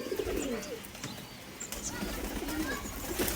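Imported Madrasi pigeons, with a female among them, coo softly in a home loft amid a dense, noisy background of other birds chirping, the calls low and muffled rather than prominent.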